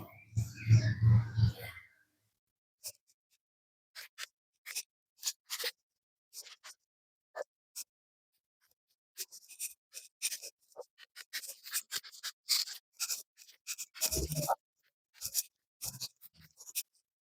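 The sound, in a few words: scissors cutting back plants, deadheading a rose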